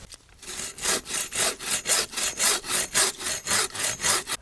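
A hand saw cutting into firewood for an autumn bonfire outdoors, about a dozen rhythmic back-and-forth rasping strokes, close and clear with no talking.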